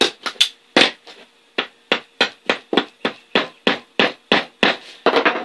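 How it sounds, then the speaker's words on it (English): A run of about a dozen sharp hammer blows driving staples into a four-wheeler seat, close and loud, struck in a steady rhythm with short pauses between them. "Hammer it down."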